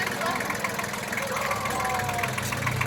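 A tractor engine idles with a steady low rumble and mild knocking, continuous and fairly close for the whole stretch, with faint voices in the background.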